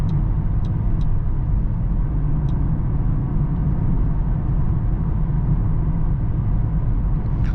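Steady low engine drone and road rumble heard from inside a 2023 Mercedes GLB 35 AMG cruising in seventh gear, continuous and fairly loud with no talk over it.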